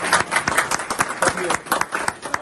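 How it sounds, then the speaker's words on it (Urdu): Scattered hand claps from a small group at a political gathering, quick uneven bursts close by, mixed with chatter and voices talking over them. "چلے جی تالی تو بجا دیں آپ."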